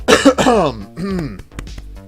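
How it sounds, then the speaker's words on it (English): A man clears his throat with a few harsh, rasping bursts, loud and close, followed by brief pauses. "Let me clear my throat"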